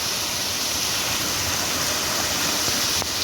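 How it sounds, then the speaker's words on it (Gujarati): Heavy morning downpour over a village, a dense, unbroken hiss of rain at steady loudness, with no voices. "આ રીતનો વરસાદ છે, હારામાં હારો વરસાદ"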